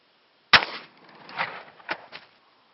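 A shotgun fires a single DDupleks Hexolit 32 fragmenting slug, one sharp, loud crack followed by a short echoing tail and faint rattles fading over about two seconds, with no talk.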